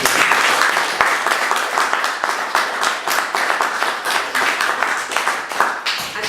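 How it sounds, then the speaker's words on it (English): An audience at a DidsburyFM speaker event claps for Professor Damian O'Doherty. The applause is dense and sustained throughout, loud and close, with no talk over it. "Can we have a round of applause, please?"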